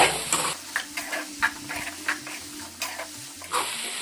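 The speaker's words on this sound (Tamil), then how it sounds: "உப்பு சேர்த்து நல்லா கலந்து விட்டுருவோம்" Bitter gourd with salt is stirred in a pan, with a series of close scraping strokes at an irregular rhythm over a faint sizzle.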